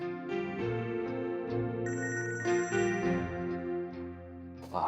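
A mobile phone ringtone plays a clear, bright melodic tune of repeating tones at close range, looping steadily with no talk over it.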